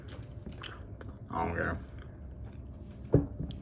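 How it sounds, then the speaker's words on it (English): Close, wet chewing and biting on a Taco Bell taco with chicken, soft crunches under a little quiet talk, with one sharper bite or smack near the end. "I'm still chewing"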